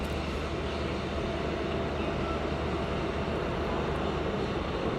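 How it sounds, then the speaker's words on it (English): An aircraft engine on a Star Air plane at East Midlands Airport, a constant loud roar and whine holding steady across the whole stretch with no voices. "Any second now the engine is going to start up in the Star Air."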